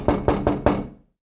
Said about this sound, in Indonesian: tiba-tiba terdengar suara ayah yang mengetuk pintu rumah